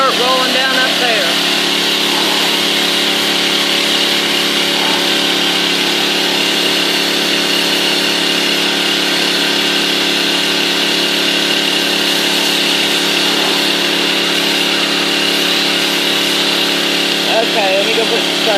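A pressure washer sprays down the outside of a house, its motor droning steadily and loudly throughout, while a voice speaks now and then over the noise.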